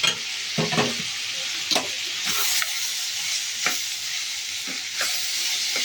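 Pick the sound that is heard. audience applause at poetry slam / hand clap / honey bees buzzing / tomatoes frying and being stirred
tomatoes frying and being stirred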